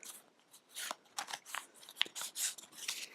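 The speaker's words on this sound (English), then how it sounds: "So we shuffle up our hand." A hand of playing cards from the Core Worlds board game being shuffled, a quiet close-up series of irregular papery riffles and snaps, roughly a dozen short bursts with brief gaps between them.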